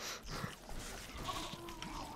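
A red sheep bleats in the fantasy video game Dungeonland, a faint wavering cry sitting low amid busy game sound effects and clatter.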